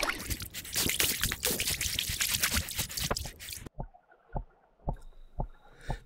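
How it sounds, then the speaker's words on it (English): Soft, irregular tapping and bubbling comes from air bubbles escaping a weight beneath an underwater camera in a lake, heard as a few sparse clicks after a burst of louder water turbulence. "That tapping sound you can hear, that's just air bubbles being released from the weight underneath the camera."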